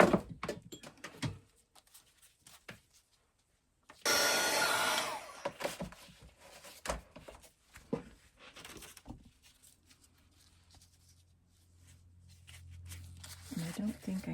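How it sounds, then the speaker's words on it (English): A heat gun blows steadily across a handmade stained glass window craft, a loud broadband whoosh for about two seconds, then scattered small handling knocks and taps with quiet talk. "now I will dry it with my heat gun."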